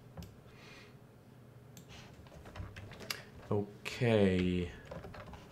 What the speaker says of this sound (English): This is actually where I type in the commit messages.